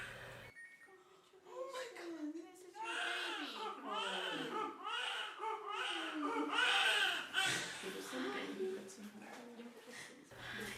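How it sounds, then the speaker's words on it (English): A newborn baby gives its intense birth cry in the first hour after birth, a continuous, wavering wail that swells and breaks into repeated sobbing bursts for about ten seconds, loud and close with no speech. "It's a very intense and specific cry for the newborn baby when the baby expands the lungs."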